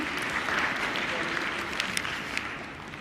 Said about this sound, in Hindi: एक बार मैम के लिए फिर से तालियां हो जाएं।